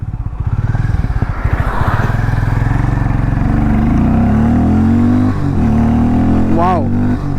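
A Harley-Davidson X440T motorcycle pulls away and accelerates, its engine note rising from a steady low thrum into a strong drone while a rider talks over it, loud and up close.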